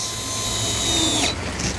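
A power driver tightens screws on a plastic pond filter lid, working around it in an alternating pattern; a steady whirring buzz runs throughout and shifts pitch near the end as the screw seats.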